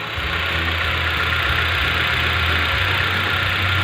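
Hyundai i20 engine idling with a misfire on cylinder 2, a close, steady mechanical drone with an uneven, knocking pulse underneath and no talking.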